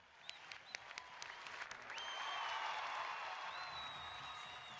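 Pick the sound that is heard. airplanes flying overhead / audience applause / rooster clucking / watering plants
audience applause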